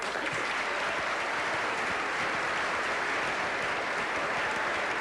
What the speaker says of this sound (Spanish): El aplauso de todos los asistentes en este momento a Diego Maradona